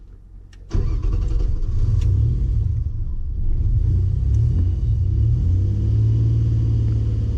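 A car engine tuned with Megasquirt cranks and fires up, then settles into a loud, steady low idle rumble that swells slightly partway through.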